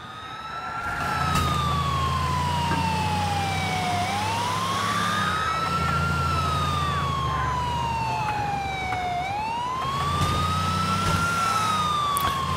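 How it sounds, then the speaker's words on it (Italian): A police car siren in the GTA 4 video game wails up and down continuously, loud and close, over a low engine rumble from the moving vehicle. "Quindi se metto le sirene anch'io, ti scansano anche per me."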